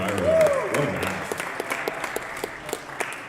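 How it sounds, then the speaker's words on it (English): Crowd applause after a robot combat match at the BatLA 2025 event: a dense, sustained patter of many hands clapping at moderate level, with a brief voice or cheer rising near the start. "Can we get a round of applause for Airjail and Gyro?"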